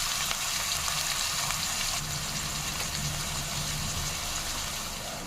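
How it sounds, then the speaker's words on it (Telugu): Steady, even sizzle of chopped onions frying in hot oil in a kadai, browning for a brinjal and prawn curry, continuous and close with no talk. "రెండు చాప్ చేసి పెట్టుకున్న ఉల్లిపాయలు వేసి గోల్డెన్ బ్రౌనిష్ కలర్ వచ్చే వరకు వేయించుకోవాలి"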